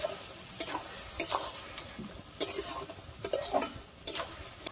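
A spoon stirs crushed fried bori and sugar into chikni saag in a pan, with soft sizzling underneath and a series of sharp scraping clinks spaced irregularly, close and quiet.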